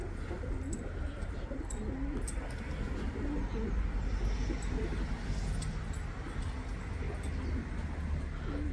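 Pigeons coo repeatedly inside a coop, soft rolling calls that recur at a steady pace over a continuous low murmur of birds and background hum, with a few faint chirps.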